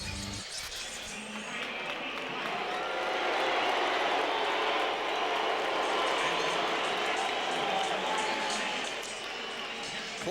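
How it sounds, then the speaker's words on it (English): A Madison Square Garden basketball crowd greets Kobe Bryant during starting lineup introductions with a swelling, sustained roar of mixed boos and cheers that rises and holds, with announcer talk layered over it. "here is how the Garden crowd"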